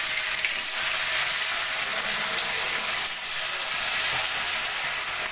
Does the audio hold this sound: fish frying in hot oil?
yes